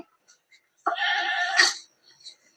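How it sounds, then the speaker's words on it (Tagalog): A single goat bleat, wavering and fairly close, stands out against near silence with a few faint sounds around it. "Ayan ang kambing ko."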